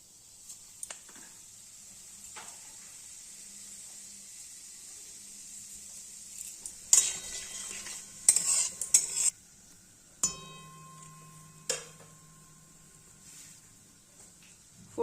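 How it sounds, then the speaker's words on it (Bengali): Bay leaf, dried red chilli and whole cumin tempering in hot oil in a kadai, a steady faint sizzle and hiss with several sharp clinks and stirring knocks of a utensil against the pan. "তো ফোড়নের জন্য একটু তেজপাতা একটু শুকনো লঙ্কা আর গোটা জিরে দিয়ে ফোড়নটা দেবো"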